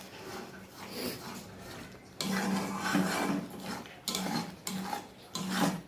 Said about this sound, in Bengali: ভালো করে নাড়তে হবে যাতে মিশ্রণগুলো ভালো করে মেলে।